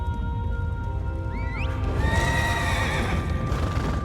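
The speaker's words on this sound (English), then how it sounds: "there ain't nothing like having a ghost horse" A ghost horse in a video game lets out a clear, wavering whinny over a steady low rumble of galloping hooves, followed by a brighter burst of neighing as the hoofbeats continue; no speech.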